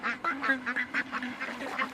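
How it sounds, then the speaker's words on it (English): Ducks quack steadily in a flooded rice paddy on a farm where they forage for pests, a close, busy run of overlapping nasal calls that keeps going without pause. "Some farmers use ducks to naturally control pests and fertilize the paddies."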